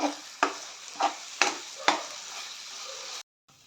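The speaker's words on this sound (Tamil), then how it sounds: "நம்ம கரைச்சி வச்சுருக்கிற வெள்ளைக்கரைசலை சேர்த்துக்கலாம் கிண்டி கொடுத்துக்கலாம்" A spoon stirs a white coconut mixture in a pan for coconut thirattupaal, a milk sweet. About five rhythmic scraping strokes sound over a soft bubbling sizzle, then the sound cuts off abruptly.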